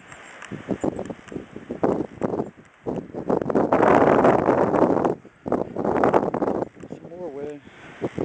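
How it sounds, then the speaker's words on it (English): Gusting blizzard wind buffets the microphone outdoors in snow, a loud rushing, flapping roar that swells and drops in uneven bursts, with a faint voice near the end. "Some more wind."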